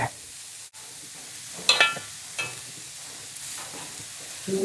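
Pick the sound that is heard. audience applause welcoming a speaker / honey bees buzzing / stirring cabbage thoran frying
stirring cabbage thoran frying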